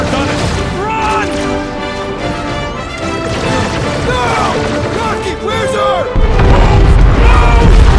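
Charges set to blow go off in the Guardians of the Galaxy game on PS5. A loud, sustained rumble of booms and crashes runs under a music score and character voices, with a heavier low blast near the end.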